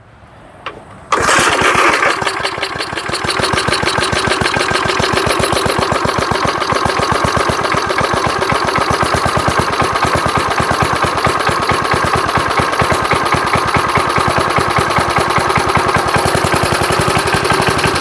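1975 Murphys lawnmower engine cranking over briefly, then catching and running at a loud, steady, rapid chug for the rest of the time, close by and alone.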